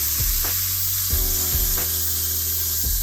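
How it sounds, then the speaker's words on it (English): A steak sizzles loudly in a hot skillet while searing, a constant close frying hiss punctuated by several low thumps and clanks of handling. "Let's put the steak in a hot skillet. It is sizzling."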